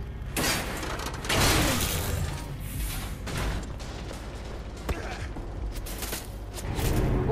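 Bursts of rapid gunfire and mechanical clatter from the video game Wolfenstein: The Old Blood erupt repeatedly, with booming hits and metallic rattles in a busy, cluttered mix.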